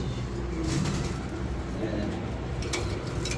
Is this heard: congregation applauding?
no